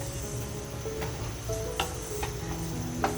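Grated coconut roasting in a pan for mutton kharda gives a steady, soft sizzle, with light scraping taps from stirring repeated every half second or so and no voices.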